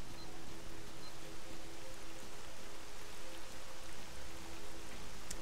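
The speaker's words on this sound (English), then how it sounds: "now it's raining again" Steady rain falling in the S.T.A.L.K.E.R. video game, a constant, even hiss of drops on surfaces that continues unbroken throughout, with no voices.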